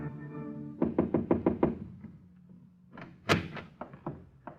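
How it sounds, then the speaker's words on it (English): A radio-drama door knock: five quick, firm raps on a wooden door, close and clear, followed by a second looser burst of knocks after a short pause. "one afternoon she moseyed up there and knocked on his door"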